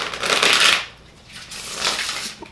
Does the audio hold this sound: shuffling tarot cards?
yes